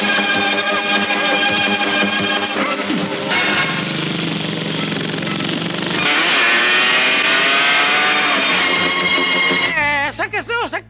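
Motorcycle engine roaring through a film stunt scene, with sustained revving under loud dramatic music and effects, ending in a sudden warbling burst near the end.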